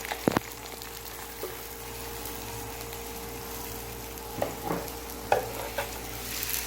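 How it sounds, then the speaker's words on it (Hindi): Parathas fry in olive oil with a continuous close sizzle, punctuated by a few sharp knocks and scrapes of a utensil against the pan; no talking. "तो ये मैं बना रही हूँ आज जैतून के तेल में पराठे"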